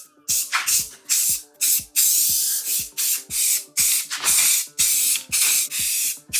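Green spray paint hisses onto the edges of fake $100 bills in about a dozen short, loud, close bursts, each separated by a brief pause.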